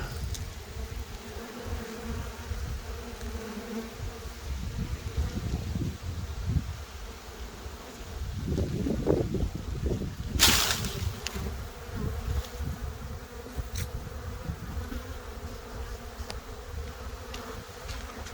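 Honey bees congregating outside a hive drone in a dense, continuous buzz, with individual insects swelling louder as they fly close past, steady throughout with no talking.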